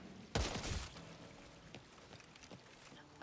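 Gunfire in the zombie shooter video game Back 4 Blood: a sharp burst of shots near the start, then a few fainter pops and game ambience, quite quiet overall.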